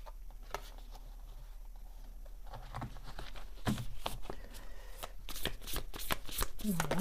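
Tarot cards being shuffled and drawn at close range, with soft riffling patter, sharp flicks and card slaps arriving in quick bursts under quiet background hiss.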